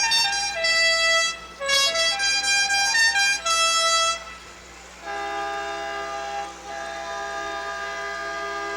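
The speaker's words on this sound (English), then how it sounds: "that's a authentic sound of a train" A parade float sounds a train whistle: loud multi-tone blasts, several short hoots and then a long sustained call, ringing over outdoor crowd noise.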